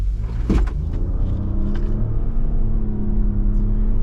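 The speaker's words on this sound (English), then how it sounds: "So we are going to do an emergency stop in 3, 2, 1." A 2023 Nissan Rogue Platinum AWD braking hard in an emergency stop on a road, heard from inside the cabin as a steady loud rumble and engine whir with a brief swell near the start, no talk.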